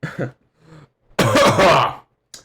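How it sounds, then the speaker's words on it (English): A few short throat-clearing coughs close by, separated by quiet gaps, with one harsher extended hacking burst in the middle. "I'm coughing a lot."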